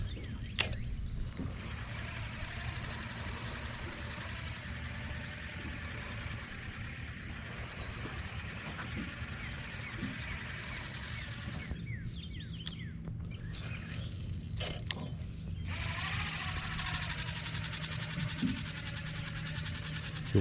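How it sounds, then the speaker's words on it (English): A cheap Lew's Speed Spin spinning reel is cranked while fishing on Greers Ferry Lake in Arkansas, giving a steady whirring grind that runs almost without break and pauses briefly midway, close, under outdoor background noise. "I bought this brand new Lew's Speed Spin, their spinning reel."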